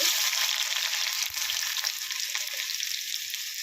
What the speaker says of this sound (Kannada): ಈಗ ನೋಡ್ರಿ ಎಣ್ಣೆ ಕಾದೈತಿ, ಇದು ಈರುಳ್ಳಿ ಹಾಕೊಂಡ್ರಿ